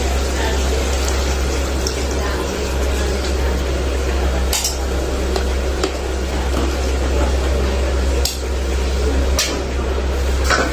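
Water goes into a pan of frying beef curry made with chapa meat, a loud, dense rushing hiss over a low steady hum, with a few metallic knocks of utensils.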